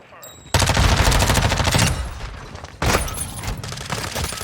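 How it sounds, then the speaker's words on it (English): Shotgun and gun fire in Modern Warfare 2 gameplay, with two loud, dense bursts of rapid shots separated by a short lull. "Was not expecting a shotgun there."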